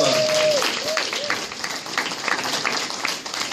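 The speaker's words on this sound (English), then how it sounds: "Everybody clap." Auditorium audience clapping together, a dense broadband patter of many hands held at steady loudness for a few seconds, with a brief whistle-like tone near the start and speech faintly underneath.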